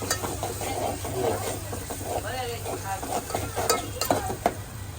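Chopped tomatoes, onions and chillies stirred in a sizzling pan, with scraping utensil strokes and a steady frying hiss, partly under a voice speaking.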